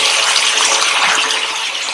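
Water pours steadily into a pan of yam (jimikand) curry, a continuous close splashing gush lasting the whole moment with no talk over it.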